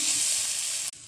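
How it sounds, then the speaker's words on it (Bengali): Onions sauté with turmeric, chili powder and salt in a pan for a clam and onion curry, giving a loud, steady, close sizzle that cuts off abruptly near the end. "পরিমাণ মতো হলুদের গুঁড়ো, পরিমাণ মতো লঙ্কার গুঁড়ো, পরিমাণ মতো নুন, সব কিছু দিয়ে ভালো করে কষিয়ে নেওয়া হচ্ছে"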